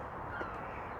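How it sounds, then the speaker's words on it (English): A faint, distant bird call, a brief crow-like caw, over steady outdoor background noise. "We can hear the birds singing"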